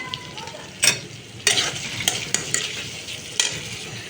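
Shrimp fry with browned onions in a hot pan, a steady close sizzle broken by several sharp clinks and scrapes of stirring, with no voices.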